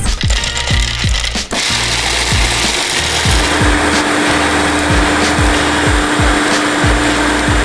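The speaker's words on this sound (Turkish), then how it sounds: "mutfak rondosunda un ufak ediyorsunuz" A loud food processor roars continuously, its rattling pulses repeating in a steady rhythm as hard roasted chickpeas are ground up.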